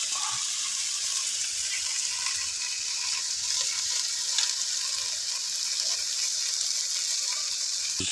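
Chopped ripe tomatoes cook in a pan for a fish broth, giving a steady, bright hiss that sizzles evenly and close throughout, with no voices.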